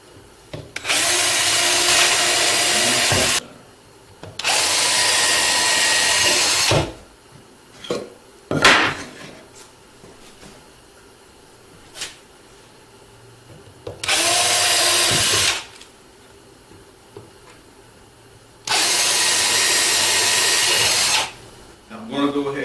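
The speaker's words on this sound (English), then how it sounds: "3/32 drill bit." A power drill with a 3/32 bit bores into wood in a workshop, four loud bursts of several seconds each, separated by quieter handling clatter and brief knocks.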